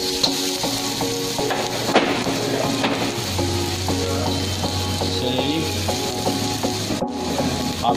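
Garlic sizzles steadily in hot oil for a honey chilli potato sauce, with a dense, continuous crackle and occasional scraping stirs throughout, close and fairly loud.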